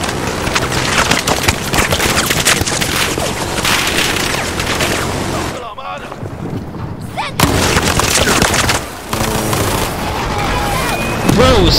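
Battlefield 4 gunfire aboard the USS Valkyrie, loud sustained bursts of automatic fire and booming blasts with a brief lull midway, under occasional voice.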